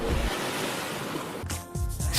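Ocean waves wash onto a beach with a steady surf hiss, then brief wind buffeting on the microphone, moderately loud and without talk.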